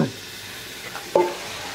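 Marinated chicken for a Parsi chicken dhansak goes into hot oil in a kadhai, making a close sizzle with a sharp clatter or stir at the start and another about two-thirds through.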